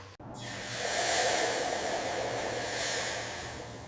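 Ragu meat browning in a hot pan gives a soft, steady sizzle and hiss that swells after a brief click at the start. It stays at low-to-moderate loudness and close, with no talking.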